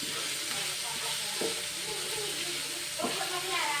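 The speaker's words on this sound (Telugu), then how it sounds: "అల్లం వెల్లుల్లి పేస్ట్ మంచిగా వేయాలి, పచ్చివాసన రాకూడదు." Ginger-garlic paste frying in a pan in a small home kitchen, a steady close crackling sizzle with two distinct scraping stirs of a spatula about a second and a half apart.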